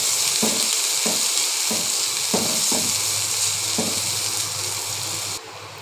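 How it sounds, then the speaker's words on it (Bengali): Bombai chili peppers fry in a pan with a steady loud sizzle and hiss, broken by several regular thuds of stirring, the sizzle dropping off slightly at the very end. "বোম্বাই মরিচ দিয়ে কিছুক্ষণ ভাজি করে নেব।"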